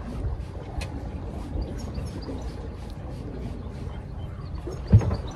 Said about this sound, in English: We feel like we're gliding through the water, silently gliding.